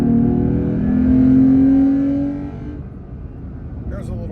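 A Toyota Tacoma pickup truck's aftermarket exhaust revs up with a rising roar, then drops back to a lower rumble, heard from a passing or nearby vehicle.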